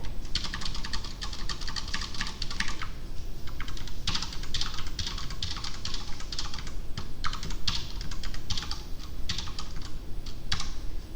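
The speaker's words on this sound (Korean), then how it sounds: "이거를 그냥 타이핑으로 다 쳤어요 제가." Steady typing on a computer keyboard while entering code, rapid clusters of close, crisp key clicks with brief pauses between bursts, and no one speaking.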